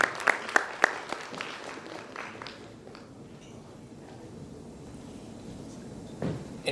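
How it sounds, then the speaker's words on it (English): Applause from a conference audience in Vadodara opens with a few sharp, loud claps, then settles into a softer, thinner patter that fades. A brief burst returns near the end. "Let's give a huge round of applause, everybody."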